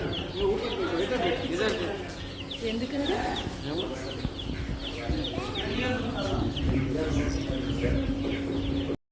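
Two small chicks chirp and cheep in short, bright, repeated calls close by, scattered over a steady hum while people talk nearby.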